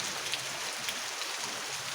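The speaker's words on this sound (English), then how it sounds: "Raining like crazy out here, man." Heavy rain outdoors, a steady hissing wash of falling water with faint scattered drops, fairly quiet and unbroken for the whole stretch.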